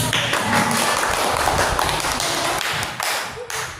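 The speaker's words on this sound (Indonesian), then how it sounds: "tepuk tangan dong" Primary school children in a classroom clap their hands together, a busy, close patter of claps and taps sustained before fading near the end.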